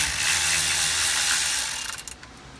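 Ratchet wrench clicking rapidly as it backs out the bolts holding the clock spring on a Ford steering column, a dense continuous whirring rattle that breaks into a few separate clicks before stopping.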